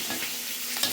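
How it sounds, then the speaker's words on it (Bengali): Dry spices with a splash of water sizzle and bubble in a pan for a sour taro-stolon curry with fish, a close, steady, continuous frying hiss with a small stir at the end. "যেহেতু কষাবো, শুকনো মশলা দিয়েছি, তাই অল্প জল দিয়ে এটা কষতে দেবো।"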